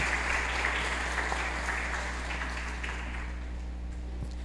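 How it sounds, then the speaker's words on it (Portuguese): Congregation at an Easter Mass in a church giving a round of applause for children and their catechists, a soft, distant patter of clapping that slowly fades, over a steady low electrical hum. "uma salva de palmas para essas crianças e para suas catequistas"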